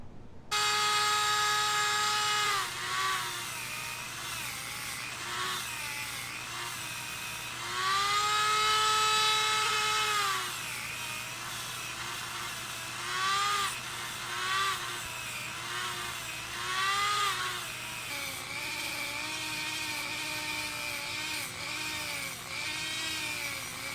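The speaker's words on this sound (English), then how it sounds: "I think the Dremel just crapped out on me again." Dremel rotary tool whirring steadily while cleaning a frag body, its high pitch rising and falling as load changes over about twenty seconds, with brief louder surges and no talking.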